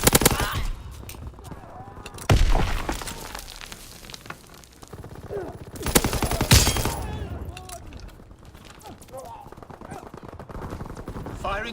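Gunfire and artillery in a Call of Duty WW2 multiplayer match: loud rapid weapon bursts and heavy blasts near 2 and 6 seconds over continuous battle noise, with occasional in-game voices.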